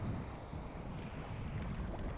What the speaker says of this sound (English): but still it's very windy.